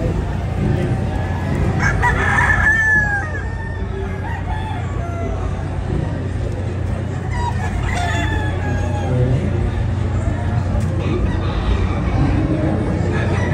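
Pure white Kelso gamefowl on display at a breeding convention in the SMX Convention Center: roosters crow loudly a few times over continuous clucking, with crowd murmur and a steady low hum behind.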